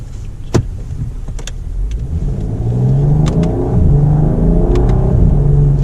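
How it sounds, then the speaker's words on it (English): A BMW 640i engine revs up steadily, pitch climbing and dropping between paddle-shifted gear changes, with a loud rising drone inside the cabin. "That was a little test of the paddle shifters"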